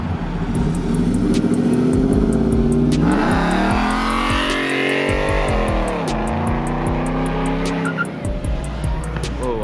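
A Mopar truck revs hard during a burnout, its loud engine roaring and climbing in pitch with screeching tire squeal, continuous and close throughout.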